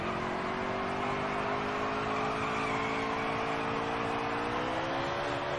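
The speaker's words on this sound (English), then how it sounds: "We're going to do a burnout." A stock car performs a burnout in the NASCAR Heat 3 racing video game, with a loud sustained engine drone whose pitch climbs slightly and a broad rushing tire noise, no talk.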